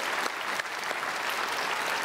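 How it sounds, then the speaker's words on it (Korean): A church congregation applauding during a Sunday worship service, a dense, continuous wash of many hands clapping together, steady and moderately close for a couple of seconds. "우리 크게 박수로 환영하겠습니다."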